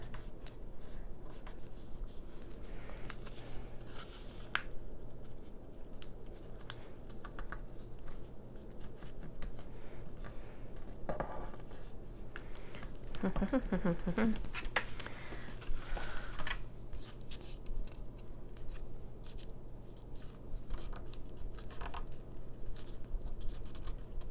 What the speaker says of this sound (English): I'm just putting glue on the corners, and I'm going to fold the corners in like this